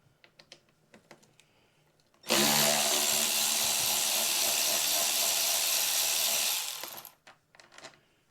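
A power tool whirs as screws are removed from the front shock of a BMW R1200GS motorcycle: one loud, continuous spin of about four seconds, close up, with light clicks and handling sounds before and after.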